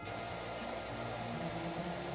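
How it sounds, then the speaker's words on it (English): In the video game PowerWash Simulator, a pressure washer sprays without a break, giving a dense, loud, continuous hiss of water jet with no pauses. "Get more of a spray going."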